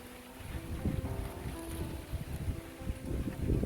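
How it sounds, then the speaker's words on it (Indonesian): Strong wind blowing outdoors through leaves near an old well, a continuous low rushing roar with gusty buffeting on the microphone and no speech. "bertiup cukup kencang. Kita bisa lihat dari daunan yang ditiup angin."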